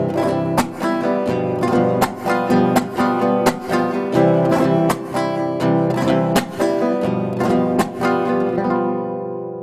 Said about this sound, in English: in many South American countries, there is a distinctive type of rasgueado that is indigenous to this region.